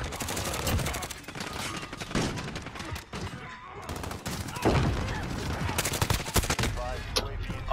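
Grau 5.56 rifle fire in Modern Warfare, rapid loud bursts of automatic gunshots in quick succession with short pauses between volleys, mixed with other game effects.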